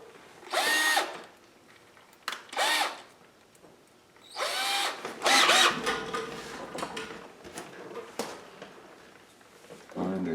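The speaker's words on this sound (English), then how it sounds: "And we'll take a matching drill." Small electric drill with a roughly 1/8 inch bit boring into a bear claw, whirring in several short high-pitched bursts separated by pauses, close and fairly quiet, with quiet talk between the bursts.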